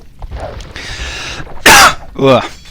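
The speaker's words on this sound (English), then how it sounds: "Sorry, I got a bit of a cough." A cough from someone commentating an Age of Empires II match, one sharp, loud burst followed by a second rougher throaty cough, close to the microphone after some quiet talk.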